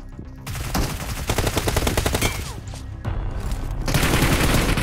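Bursts of rapid automatic gunfire in BGMI gameplay during a push to knock down enemies, with dense overlapping shots, short pauses between volleys and heavy game sound throughout.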